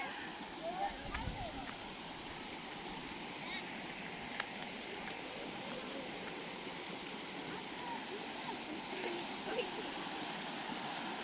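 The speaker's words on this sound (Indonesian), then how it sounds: "seger banget ya lihat anak-anak mandi di aliran sungai ini" A river stream flows steadily in a local hillside swimming spot where children are bathing, a constant broadband rush with occasional faint splashes and voices in the background.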